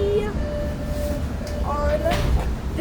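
Interior of an MBTA Orange Line subway train running out of Malden toward Forest Hills: a steady low rumble of the car on rails with faint squeals and hums, while people talk nearby.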